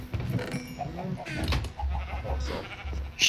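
Sheep bleat in the Minecraft video game, several short wavering calls scattered through a busy mix of game sounds and low thumps, with some talk faintly in the background.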